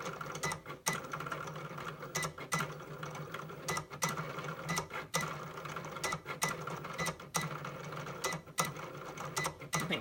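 A Cricut Explore cutting machine works across inkjet transfer paper, giving a steady mechanical whir and motor hum broken by regular short clicks and carriage shifts, quiet and close with no talk.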